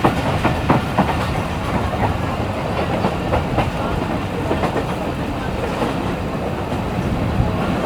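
Karachi Express passenger train running on rails in Sindh, a steady loud rumble with rhythmic wheel clatter on the track joints throughout, heard from aboard the coach with no talking.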